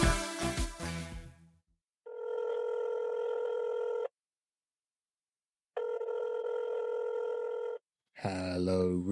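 Telephone ringing in two steady electronic bursts of about two seconds each, separated by silence, loud and close, with brief sounds before and after.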